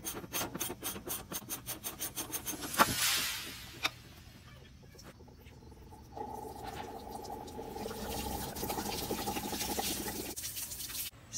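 Socket wrench loosening the drain plug on an RV water heater: a quick run of close ratcheting clicks with a few metallic knocks, then water rushing and splashing as the tank drains, with no talk.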